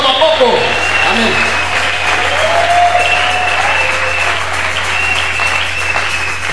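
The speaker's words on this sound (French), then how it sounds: "est-ce que tu peux acclamer le Seigneur?" Church congregation applauding and cheering after a call to praise during a French-language sermon, a dense sustained wash of clapping that holds steady throughout.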